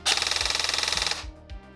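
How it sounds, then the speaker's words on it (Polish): A sustained stream of rapid full-auto fire from a Zion Arms PW9 Mod 1 airsoft replica, a steady rattling chatter lasting about a second, then stopping with a few mechanical clicks. "oraz full auto"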